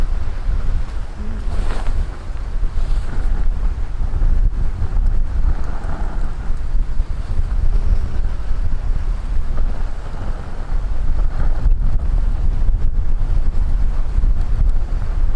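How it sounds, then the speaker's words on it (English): Strong wind gusts steadily across an outdoor wild camping spot, roaring into the microphone with a constant heavy rumble and buffeting for the whole stretch, no voices present. "The wind's been blowing the handles off."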